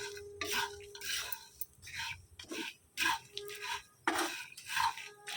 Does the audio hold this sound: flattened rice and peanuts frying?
yes